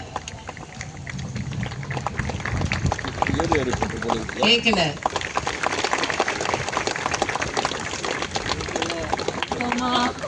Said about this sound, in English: I request all the students to give a very big round of applause to our placement dean, Dr. John Bruce.